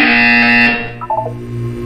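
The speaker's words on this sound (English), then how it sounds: "When you hear the buzzer, look up at the ceiling." Loud harsh electronic buzzer from the video game Portal 2, a single sustained blast lasting under a second, followed by a short tonal chime and lingering hum.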